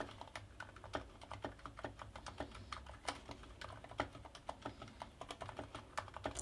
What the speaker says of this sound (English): I really love these Cherry MX Silent Pink switches.